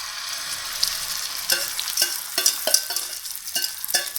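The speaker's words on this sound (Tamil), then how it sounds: "ரெண்டாவது ஆம்லேட் ஊற்றுறாங்க பாருங்கள்" A capsicum omelette of eggs, coriander, mint and salt fries in a pan with a constant hiss, broken by a series of light spatula taps and scrapes, close by with no talking.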